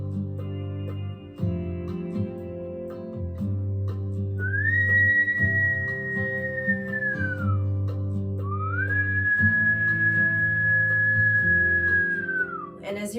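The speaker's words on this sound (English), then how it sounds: "whistling on both the inhale and the exhale" Breath drawn in and pushed out through pursed lips as a whistle, two long sustained whistled tones with slight pitch bends, heard over steady low droning music.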